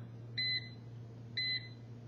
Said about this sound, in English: There's the three beeps.